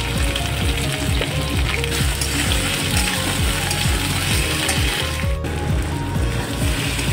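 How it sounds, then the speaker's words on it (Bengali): Potatoes and onions frying together in a pan for Bengali aloo dum, a loud, steady sizzle with rapid rattling scrapes of stirring running throughout, close and without talk. "দেখুন আলুটা পেঁয়াজটা ভাজা হয়ে গেছে।"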